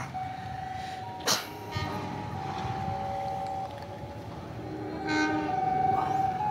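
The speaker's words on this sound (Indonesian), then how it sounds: "Ini kereta barengan nih teman-teman." Trains KA Tawang Jaya and KA Papandayan pass at an Indonesian railway station, with a steady rumble of rolling stock, a brief sharp horn blast early on and sustained horn tones later.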